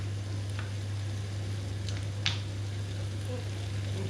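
Garlic fries in a hot pan over softened, slightly browned onions, giving a steady close sizzle with a few soft stirring scrapes and light crackles, set against a constant low electrical hum.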